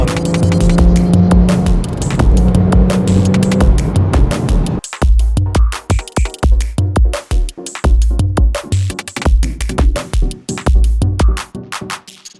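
A Porsche 911 Carrera S of the 991.1 generation makes loud, continuous engine and road sound, with a steady drone at first and then sharper rising and falling bursts as the car accelerates.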